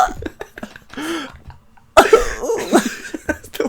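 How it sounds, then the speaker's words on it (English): A single harsh, loud cough bursts out close up after a stretch of talking, followed by throat-clearing sounds and more voice. "That's the worst cough I've ever done."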